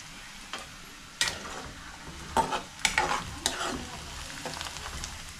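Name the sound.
onions frying in a pan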